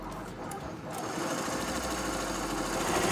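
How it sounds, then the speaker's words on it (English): A Tajima 15-needle embroidery machine stitches a hat at high speed, a steady, fast mechanical whirring and chattering that holds constant throughout, moderately close. "This embroidery machine is the Tajima machine, and it have 15 needles here."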